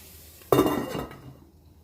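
Onion hitting a hot pan with spices for kinilaw na labong, a sudden loud sizzle and stirring clatter that fades over about a second, close and without talk.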